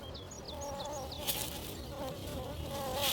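A bee buzzes close by with a steady droning hum that wavers in pitch, heard alone over quiet outdoor background in Yellowstone.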